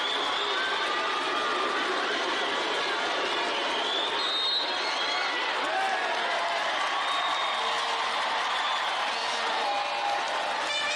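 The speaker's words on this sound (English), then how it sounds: "That gets the crowd going." A basketball arena crowd at a FIBA U18 African women's semi-final between Egypt and Madagascar roars and cheers after a made three-pointer, a dense, loud, steady wash of voices throughout.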